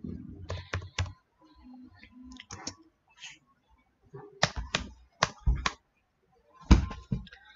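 Typing on a computer keyboard while entering an address into Tally ERP 9 accounting software, close, crisp key clicks in quick bursts separated by pauses.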